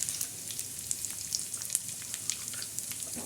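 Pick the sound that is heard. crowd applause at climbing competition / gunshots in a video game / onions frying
onions frying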